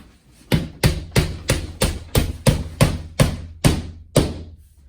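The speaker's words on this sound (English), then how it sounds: "I'm just nailing it up as I go." Hammer blows drive nails into shiplap boards on a wall, about eleven sharp, evenly spaced strikes ringing out close and loud in a steady rhythm with no talking.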